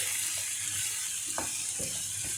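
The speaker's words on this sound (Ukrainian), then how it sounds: "зараз сюди додаємо нашу цю засмажку, щоб ці смаки всі між собою перемішались" Fried onion and carrot are stirred into a zucchini spread in a pan, a soft constant sizzle with a few wet scraping strokes and a muffled clink of the spoon, close and fairly quiet.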